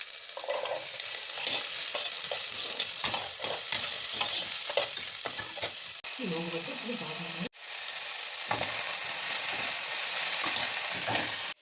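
Vegetables stir-fried in a pan for veg chowmein, with continuous sizzling broken by scraping stirs and clatters of a spatula. A short low rumbling passage sits in the middle, and then the frying resumes.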